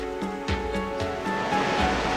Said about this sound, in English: I love the sea. It's all around us.